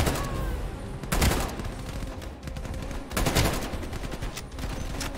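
Gunfire in the video game Call of Duty Black Ops Cold War: two loud bursts of rapid automatic shots about two seconds apart, separated by steadier background fire and game ambience.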